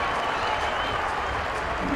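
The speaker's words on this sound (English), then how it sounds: "the crowd erupts here at the racecourse" Crowd roaring and clapping after a Sri Lanka try in an Asia Rugby Men's Championship playoff against Malaysia at the Colombo racecourse, dense sustained applause with a commentator talking over it.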